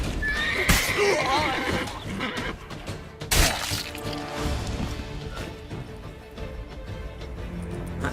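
A horse whinnies loudly in The Witcher 3: Blood and Wine as a bandit is knocked off it, a shrill neigh over game ambience, followed by a sharp crash and continuing background game sound.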